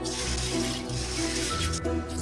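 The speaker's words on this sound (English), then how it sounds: "Add some water and wash the soybeans thoroughly." Running tap water pouring steadily into a bowl as soybeans are washed for tofu pudding, a continuous close splashing flow with no talk.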